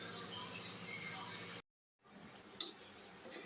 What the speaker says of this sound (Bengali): একটুখানি জল দিয়ে দিলাম যাতে মশলাটা, দই, আদা বাটা সব একসঙ্গে মিলেমিশে যায়